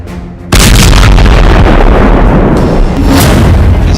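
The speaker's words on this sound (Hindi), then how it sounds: "एक गली में फिलिस्तीनी लड़ाकों और इजरायली सेना के बीच गोलीबारी चल रही है। तभी एक बम फटता है।" A bomb blasts in a street during a gunfight in Tulkarm in the West Bank, a sudden loud boom that erupts into a sustained roaring rumble and crackle, very close and overwhelming.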